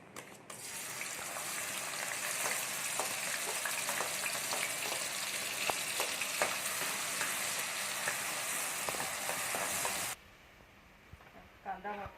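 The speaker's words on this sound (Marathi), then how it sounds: "तेल टाकून ठेवून घेतलं आहे कांदा परतून घेऊया" Onion sautéing in oil for Malwani chicken sukka gives a dense, continuous sizzle with spatula clicks and scrapes, ending abruptly before a few quieter knocks.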